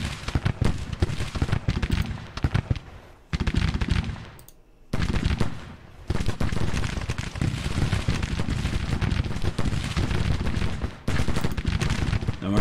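Massed volleys of Enfield rifle fire from thousands of Civil War infantry in the Grand Tactician strategy game crackle in dense, overlapping bursts, loud and continuous with brief lulls between waves.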